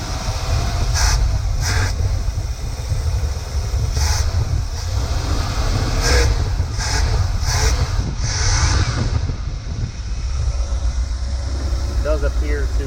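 A car engine idles on its first drive, a continuous low rumble with a steady hum, close and unbroken, with a few faint higher clicks over it.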